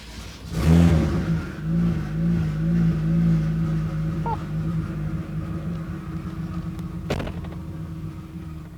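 Twin-turbo DeLorean, freshly dynoed and still not fully assembled, roars up close with a loud rev that swells and then settles into a steady engine drone, with a sharp pop near the end.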